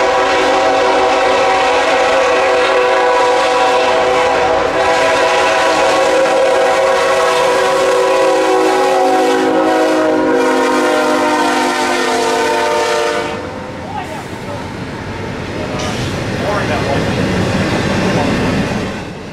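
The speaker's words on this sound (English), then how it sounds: "it was time for the hottest train on the system, daily northbound train QO26, double stacks from Jacksonville to Chicago" CSX northbound QO26 hot double-stack intermodal freight, over 14,000 feet long, bound from Jacksonville to Chicago at Folkston, blasts a loud sustained multi-chime horn for about thirteen seconds, then gives way to the heavy rolling rumble of passing stack cars.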